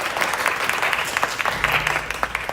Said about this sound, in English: Alexandra Andersley, everybody clap for Alex.